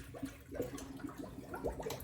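Water splashes and trickles over orange and grapefruit segments being rinsed for canning, a faint, close, uneven sloshing and dripping over a couple of seconds.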